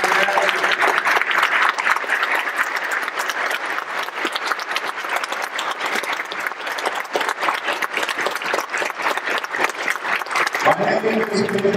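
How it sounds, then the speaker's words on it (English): An audience at a military tattoo event applauds the cast and graduates with sustained, dense clapping that stays loud and steady for nearly twelve seconds before tapering slightly at the end. "Please, let's have a round of applause for the cast and the graduates."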